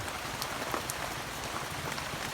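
Steady rain falls on a surface, a dense, even hiss of drops with no pauses, moderately loud and alone.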